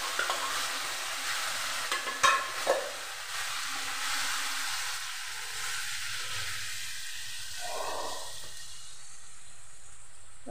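Jackfruit seeds are tipped into oil with garlic already fried red-brown. A loud broadband sizzle carries a few clinks of stirring early on, then settles and gradually fades, with no talking.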